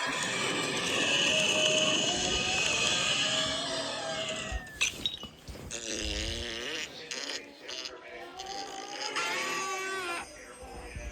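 A pet cat meowing indoors, several drawn-out wavering meows in the second half, fairly close, following a stretch of noisy whistling and clatter, with a voice briefly present.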